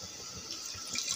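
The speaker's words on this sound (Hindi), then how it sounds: "थोड़ा सा पानी डालेंगे," A little water is poured into a pakora batter of spiced masala with yogurt, a brief soft trickling splash close by.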